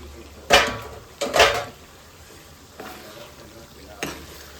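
Peas and mixed vegetables are tipped into hot oil in a pan for pav bhaji, bringing a few sharp clatters and scrapes from stirring over a quiet background hiss.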